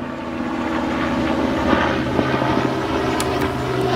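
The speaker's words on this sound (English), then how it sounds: "There's a helicopter." A steady, loud engine drone from a helicopter overhead, continuous throughout with a rumbling low end and no speech.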